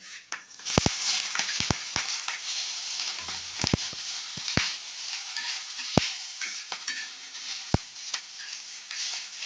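Green chilies roasting in a little oil in a pan give a soft, steady sizzle broken by sharp pops and ticks at irregular intervals, close and fairly quiet.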